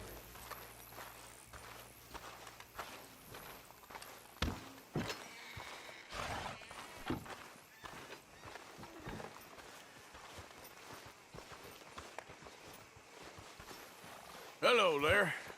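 Horses being hitched up in a video game clop along at a walking pace, with hoof beats coming close and clear beneath voices talking over them.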